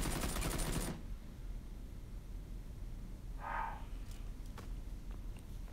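M4 rifle hip fire in PUBG, a loud rapid burst of automatic gunshots lasting under a second, then quieter game ambience with a brief faint sound later.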